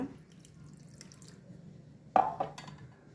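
Fresh orange juice strains through a fine kitchen strainer with faint, quiet trickling, then a sudden clear drip and splash, followed by a couple of softer drops.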